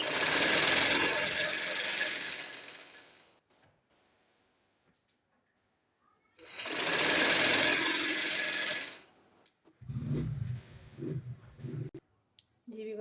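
Two loud bursts of a sewing machine stitching pintucks on a salwar, each a few seconds long with a quiet pause between, followed by softer clicking and handling noise.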